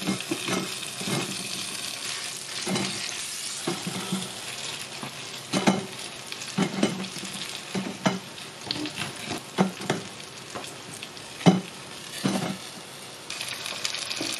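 Oil sizzles steadily under rice cakes made from leftover rice frying in a pan, with intermittent clinks and scrapes of a utensil stirring and turning pieces, close up.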